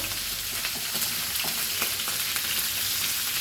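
Fish frying in very hot oil for a Goan recheado fish fry: a loud, steady crackling sizzle with bursts of spattering pops, close and continuous.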